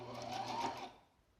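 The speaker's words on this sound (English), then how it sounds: "You're going to start to sew nice and slowly. Then you're going to backstitch." A sewing machine stitching a fabric seam and backstitching, a quick rapid whirring run of needle strokes, near and fairly soft, fading out at the end.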